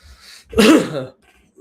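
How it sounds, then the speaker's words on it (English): A single loud, harsh cough bursts out close by, preceded and followed by quiet breathy sounds. "Sorry about the loud coughing."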